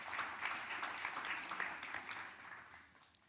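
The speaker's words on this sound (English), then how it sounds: "Let's do the round of applause." Faint applause from a higher-education summit audience before an expert panel, a steady patter of clapping that gradually fades toward the end.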